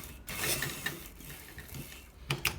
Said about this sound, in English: So let's stitch it very quickly.